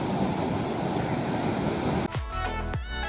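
Ocean waves and surf roll steadily at the seaside where avocado toast is being eaten, a constant broad wash of water and wind that gives way near the end to a few short, sharp knocks and thumps close by.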